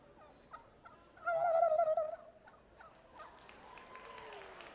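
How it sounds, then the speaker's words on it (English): At a junior market turkey showmanship event, a turkey lets out one loud, rattling gobble lasting about a second, followed by a fainter rising whistle-like call amid quiet background noise. "It's not actually sounds like a gobble, but it makes them gobble a lot."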